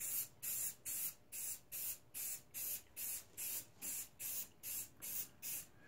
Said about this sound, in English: And then I'll go spray these guys